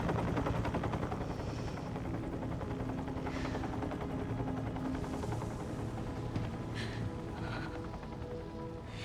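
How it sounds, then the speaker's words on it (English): An evac helicopter in the video game Resident Evil Requiem gives a continuous rhythmic rotor chop that stays steady for about nine seconds, with occasional sharp bursts mixed in under game music. "And there's the evac chopper."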